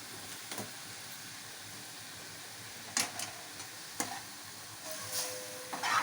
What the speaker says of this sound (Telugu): స్టవ్ మీడియం ఫ్లేమ్లో పెట్టేసి మొత్తం కలుపుకుందాం